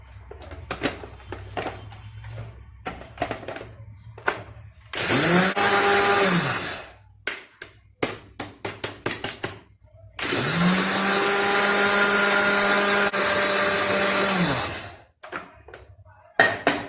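An electric kitchen blender grinds black seeds in two loud sustained bursts, the second longer, its motor whine rising as it spins up, separated by quieter clinks and handling noises.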